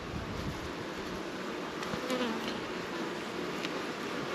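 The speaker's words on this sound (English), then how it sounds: "There's so many bees." Dense, steady buzzing of many honeybees swarming close around a home hive during an inspection, a constant droning hum with occasional louder passes near the listener.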